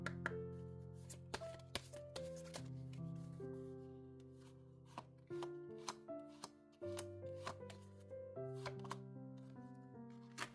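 Tarot oracle cards get shuffled by hand, crisp riffles and flutters broken by a few sharp taps of the deck, quiet and close with no speech.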